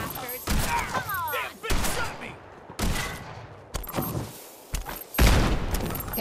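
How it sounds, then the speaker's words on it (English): Grenade explosions and gunfire in Fallout 4 burst out repeatedly as loud, sharp shots and booming blasts, irregularly spaced over a rumbling fight. "Damn, they're throwing grenades now."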